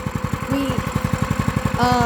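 A Predator 212 small engine idles during break-in, putting out a steady, rapid chugging thump close to the microphone with an even running rhythm throughout.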